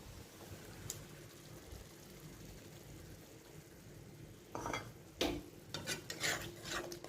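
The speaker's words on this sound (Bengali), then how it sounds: "দইটা দিয়ে ভালো করে নাড়িয়ে নেবো তাড়াতাড়ি করে" Sour yogurt is added to fried spices in a pan and stirred over low heat, a quiet sizzle followed by louder scraping, stirring strokes and utensil knocks toward the end.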